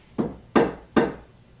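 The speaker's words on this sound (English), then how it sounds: "If you can hear me, tap on something like this." Three sharp knocks on a wooden surface inside a hotel, evenly spaced and close by, against a quiet room background.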